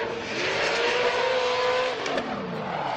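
A Formula DRIFT car at the New Jersey qualifying round screams through the course on Nexen tires, engine held high and wavering as the tires shriek, a loud continuous roar with no pause.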